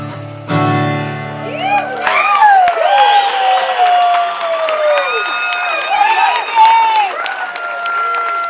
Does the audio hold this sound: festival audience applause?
yes